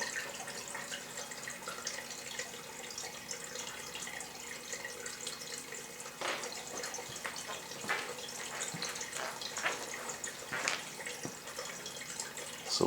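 Water drains from a water heater through a hose, a faint steady trickle and splash with scattered drips and louder gurgling spurts toward the end.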